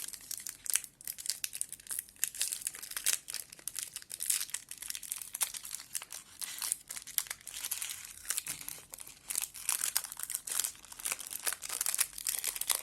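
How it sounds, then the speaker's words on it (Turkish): A KitKat Chunky Duo wrapper crinkles and tears as it is opened, with irregular close-up rustling and crackling bursts that go on for several seconds, fairly quiet overall. "Evet paketi açalım bakalım nasıl bir şeymiş."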